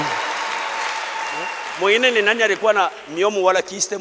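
Clapping from a church congregation during a French-language Sunday worship service fills the first seconds, then fades beneath a raised, chanting voice.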